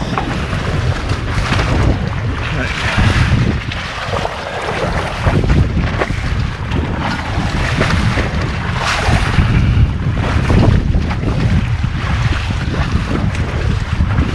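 Strong wind buffets a sailboat heading south, roaring steadily across the microphone with a constant rush of water and waves beneath, loud and unbroken and with no one talking.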